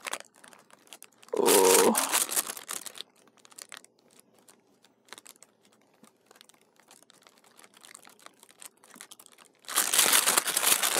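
A sticker is peeled off its backing with a short burst of crinkly tearing, followed by quiet faint rustles, then another loud crinkling burst at the end; a single brief exclamation is voiced.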